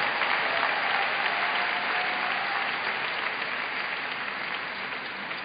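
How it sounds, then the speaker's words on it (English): A church congregation at an RCCG Holy Ghost rally in Port Harcourt applauds the choir: dense, sustained clapping from a large crowd fills the whole stretch at steady loudness, easing slightly toward the end. "please give a big round of applause to the choir"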